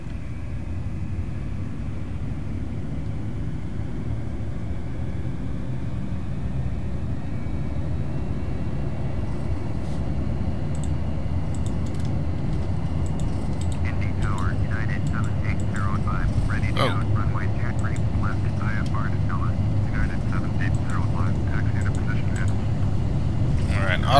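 A Captain Sim L1011 airliner begins its takeoff roll in the Prepar3D flight simulator, giving a steady, loud engine roar that builds slightly, with voices talking over it in the second half.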